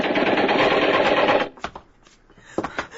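Rapid burst of gunfire from a 1950s radio drama, loud and dense for about a second and a half, then a few sharp scattered shots and thuds with brief voices afterward.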